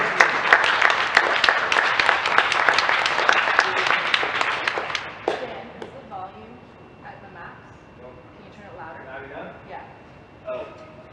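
An audience applauds at a table tennis awards ceremony. Dense, loud clapping fills the first five seconds, then fades out into scattered sounds and a few spoken words.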